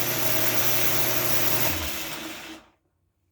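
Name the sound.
metal lathe running with half nut lever engaged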